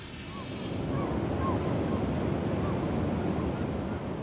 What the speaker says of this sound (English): The sound of the ocean's there all the time for me.